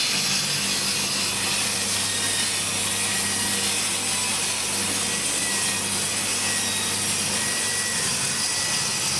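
Saw set to 15 degrees making an angled cut through wooden boards for a sideboard, a loud, steady, continuous buzzing roar of the blade in the wood, close up and uninterrupted, with no talking.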